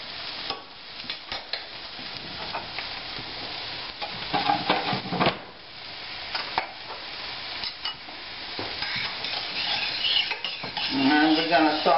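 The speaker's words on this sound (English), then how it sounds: "we're going to saute these until they are a nice opaque look" Medium-chopped onions sauté in two tablespoons of butter in a pan, giving a steady close sizzle broken by frequent scraping and clinking of a utensil against the cookware.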